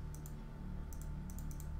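Quiet clicking on a computer keyboard and mouse, several light taps in small clusters, close and soft with a faint background hum.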